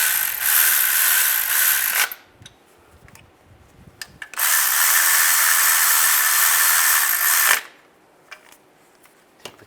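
Two long, loud bursts of a power ratchet or driver snugging timing cover bolts on a 2007-2013 Chevy Silverado, each roughly two to three seconds long, with quiet mechanical clicks and handling noise between them and no talk.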